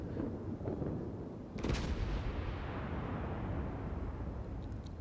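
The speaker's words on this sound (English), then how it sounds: "it's actually looks like he's taking some more shots off at the Fuso" Naval artillery in the World of Warships game: the USS Arizona fires on the Fuso, with one sharp heavy boom midway over a constant low rumble of battle noise.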